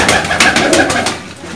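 Pigeons coo in a loft kept for kabootar bazi pigeon flying, several soft throaty calls overlapping close by with no talk.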